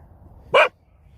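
A dog lets out a single sharp bark at close range, short and loud against a quiet outdoor background.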